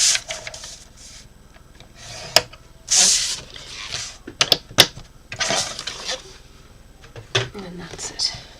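Paper being scored for a Christmas treat box gives a series of irregular, close, scratchy strokes and taps, some sharp and loud, with a voice talking intermittently between them.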